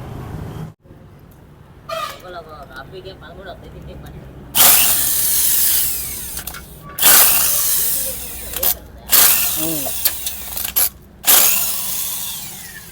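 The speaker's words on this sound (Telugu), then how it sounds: "ఇప్పుడు వచ్చేసి ఈ బోల్డ్ పీకేద్దాం, దీని యొక్క క్లాంప్ బోల్డ్." The air filter clamp bolt comes off a Bajaj BS4 diesel auto-rickshaw engine in several loud, separate bursts of tool noise, with quieter clinks of metal in between.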